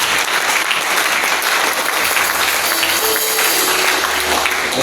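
Sustained, dense applause from a church congregation at a Sunday service fills the room, a steady wash of clapping with no pauses, and a faint tonal hum rises underneath partway through.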